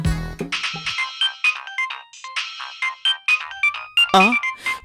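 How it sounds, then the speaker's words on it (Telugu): A phone ringtone plays a bright, rapid electronic melody of short repeating beeps, close and loud, with no talking over it. "ఈయన కూడా ఇప్పుడే ఫోన్ చేసి అవ్వాలా?"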